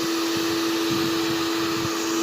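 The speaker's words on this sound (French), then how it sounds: "Ouais, je décape avec ça. Le sèche-cheveux." A hair dryer blows hot air onto metal to strip off its rust-protection coating, making a continuous whirring hum with a steady pitch that stays even throughout.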